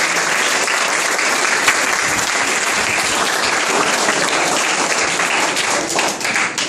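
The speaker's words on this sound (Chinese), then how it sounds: "给拍掌一下啦" Dense, steady applause from an audience, many hands clapping continuously at close range for the whole stretch without a break.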